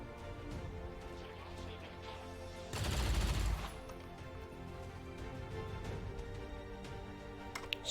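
A short burst of rifle gunfire from a soldier shooting an enemy in XCOM 2, a loud volley lasting under a second over a quiet ambient backdrop.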